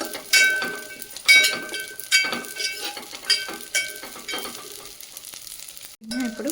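Semiya vermicelli fries in a pan toward golden brown, with bursts of crackling sizzle and scraping stirs, spoon clinks against the pan, loud and close, ending in a brief low hum.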